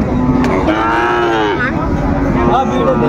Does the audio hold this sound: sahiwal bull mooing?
yes